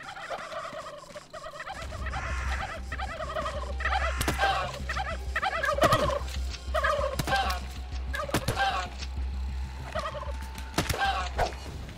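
Turkeys in the video game How to Survive 2 gobble repeatedly in a dense, overlapping chorus of rapid warbling calls, with game sound effects underneath.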